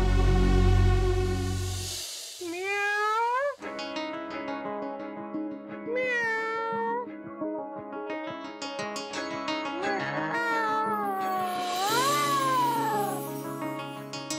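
A cat meowing in a Hindi drama scene, several drawn-out, rising and falling meows spaced across the span, close and clear over a soft background.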